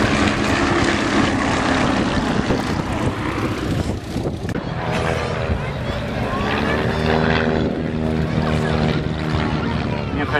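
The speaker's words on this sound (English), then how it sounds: "The Jungman, the figure of the two biplanes" Jungmann propeller biplanes fly overhead at the Shoreham Airshow, a loud, continuous droning engine roar that swells and shifts in pitch as they pass, with an announcer talking over it.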